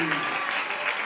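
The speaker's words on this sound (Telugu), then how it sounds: "చప్పట్లు కొట్టి మీకనగా స్తోత్రం చెప్పండి." A church congregation bursts into brief clapping in praise during a Good Friday Pentecostal service, a dense, steady patter of many hands lasting only a moment, with a voice faintly audible at the start.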